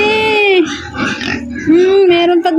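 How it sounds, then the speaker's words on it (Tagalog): Pigs penned for lechon grunting and oinking loudly up close, several drawn-out squealing oinks with short grunts between, one after another. "Ang daming baboy."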